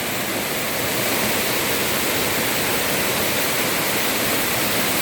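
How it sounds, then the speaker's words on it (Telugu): Steady, full roar of a waterfall about 50 km before Munnar on a South India road trip, a dense continuous rush of falling water close by with no voices. "ఇక్కడ మంచి బ్యూటిఫుల్ వాటర్ ఫాల్స్."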